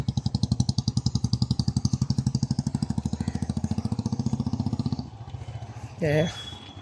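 A motorcycle engine runs with a steady, throbbing pulse through traffic, loud and close for about five seconds before dropping away, with a brief rising horn-like tone near the end.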